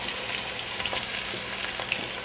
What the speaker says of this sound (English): Then once you put the onion, you need to constantly stir it so that the onion does not burn.